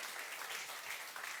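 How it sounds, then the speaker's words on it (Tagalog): Faint, thin clapping from a small congregation in a church, a soft patter of hands that stays steady and quiet throughout. "Napakahinang palakpak sa Panginoon."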